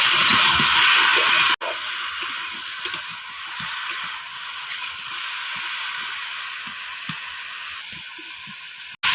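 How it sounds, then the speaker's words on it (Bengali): Vegetables fry in a pan with a steady, loud hiss and sizzle, interrupted by a brief pause and continuing close up, with faint pops scattered underneath and no talking. "সেটা আমি ভাজবো"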